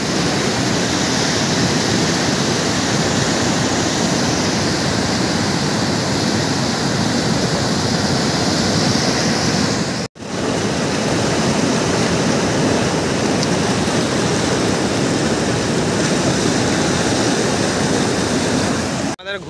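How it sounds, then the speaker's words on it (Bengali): Loud, continuous rushing water at Ghaghra, a dense roar like a waterfall or fast stream heard close up and steady throughout, with a brief dip in the middle. "জলের সাউন্ড শুনতে পাচ্ছ? Heavy sound."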